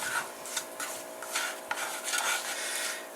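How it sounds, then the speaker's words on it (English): A utensil stirs flour into ground beef cooking in hamburger grease in a pan, making repeated rasping scrapes and soft rubbing strokes against the pan in an uneven rhythm, close and fairly quiet, with no talking. "So let's get that flour mixed in with that ground beef,"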